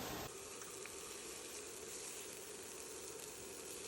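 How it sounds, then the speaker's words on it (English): Hot chili flakes and two bay leaves toasting in a pan, a faint, steady, low sizzle hissing evenly throughout with no speech over it. "I'm just going to toast those spices in the pan for about 1 minute"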